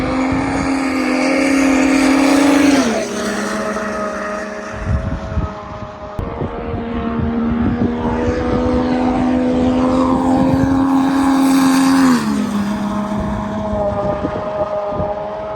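A Ski-Doo Turbo R and a Polaris Boost VR1 snowmobile in a rolling-start race: loud, close, high-revving engine drone with a sharp pitch drop partway through, then climbing revs before another drop.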